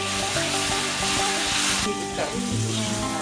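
Spice paste sizzles steadily in hot oil for a Manuk Lemang-lemang chicken dish, a dense continuous frying hiss. Low tonal sounds run underneath, and a short break in the texture falls about two-thirds of the way through.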